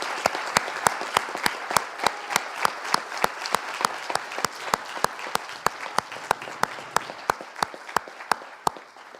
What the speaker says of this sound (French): On peut les applaudir, ce sont nos 2 finalistes.